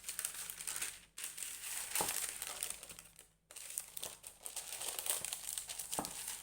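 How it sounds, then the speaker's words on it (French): Parchment paper is handled and crinkled for a frozen vegetable semolina patty recipe, a close, steady rustling with a few brief pauses and no talk. "Papier cuisson."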